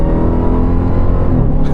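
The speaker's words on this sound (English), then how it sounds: "Man, the supercharger whine is so epic." Supercharged engine of a 2026 Dodge Durango Hellcat Jailbreak, a 710-horsepower SUV, driven hard through canyon corners, giving a loud, steady close-up drone with a sustained supercharger whine and no talk over it.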